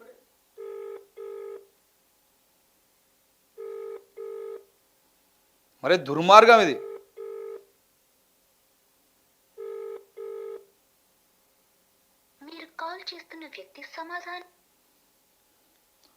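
A telephone rings unanswered in repeated paired trills at a steady interval, clear and close, with a burst of agitated talk in the middle and more speech near the end.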